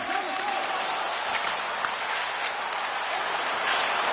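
In an NHL 26 video game hockey arena, a crowd roars as a steady, broad wash of cheering and applause, with a commentator talking over it.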